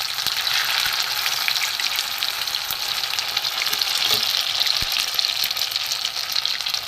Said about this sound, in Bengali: বাঁধাকপির পনির ভেজে নেব